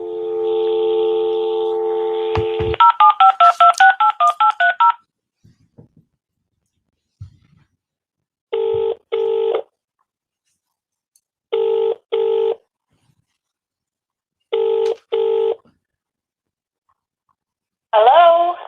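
Telephone dialing tones: a steady dial tone gives way to a quick run of keypad beeps, then pairs of ringback tones sound at regular intervals with silence between, loud and clean with no voices.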